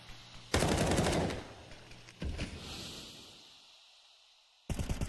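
Close-range gunfire from M4 rifles and pistols in Counter-Strike 2: a loud rapid burst, a shorter second volley with echoing tail, then another burst cutting in at the end.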